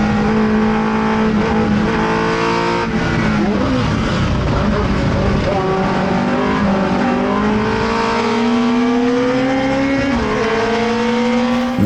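Classic race cars battle wheel to wheel around the Algarve circuit in Portugal, engines roaring loud and close as the pitch climbs through each gear and drops on upshifts, with other cars howling alongside.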